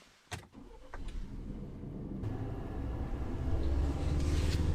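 A 2021 Ford Ranger Tremor pickup starting off with a couple of sharp thumps, then a steadily building engine and road rumble heard from inside the cab, growing louder as it gets under way.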